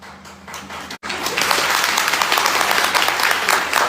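An audience breaks into sustained applause, many hands clapping together at a steady, fairly loud level after a brief lull, with no talk over it.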